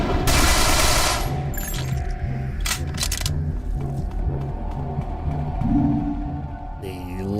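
Sniper and other gunfire in the Manhunt 2 video game, a loud burst of shots at the start followed by sharp cracks and steady rhythmic game sounds, with no talk.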